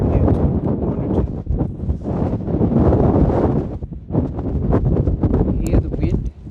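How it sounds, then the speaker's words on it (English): Wind gusting outdoors beside a cargo trailer in winter, a loud, rough, broadband roar buffeting the microphone almost continuously, with a brief lull near the middle and faint voices mixed in. "You hear the wind?"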